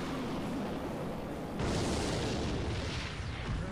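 A rocket spell strikes a Sparky in a Clash Royale match: a loud, dense blast lands about halfway through, lifting a broad rumbling roar over the steady game backdrop, which then stays full and noisy to the end.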